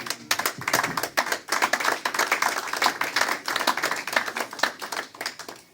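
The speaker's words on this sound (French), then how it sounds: "Est-ce que quelqu'un peut acclamer pour Jésus?" A church congregation at a Sunday service applauding for Jesus, dense rapid clapping from many hands, lively and close, holding steady for several seconds before easing off.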